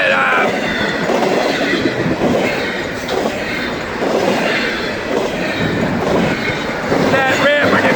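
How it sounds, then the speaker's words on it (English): A freight train hauling brand-new Amazon trailers on flatcars rolls past with a loud, continuous rumble and clatter of wheels, a squeal rising near the end. "They move these train cars, these trailer cars south a lot"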